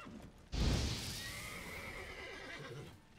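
A horse in The Witcher 3 video game gives a loud, close whinny that rises abruptly and trails off over a couple of seconds, with faint game ambience around it.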